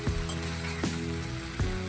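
Mustard-based spice paste sizzling in oil in a pan while cooking pabda fish curry, a steady close crackle with soft stirring scrapes at a slow regular pace.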